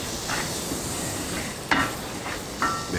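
Smoked beef pot pie filling cooking in a pan, a soft steady sizzle with a few brief scraping stirs of a utensil, close and moderately loud, no talking.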